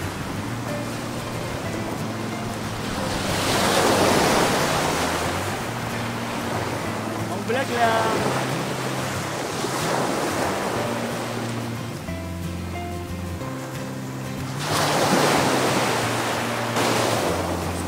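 Sea waves roll in at a beach in Lagonoy, Camarines Sur, swelling in broad washes of surf with wind noise, while a voice speaks briefly over the steady ocean rumble.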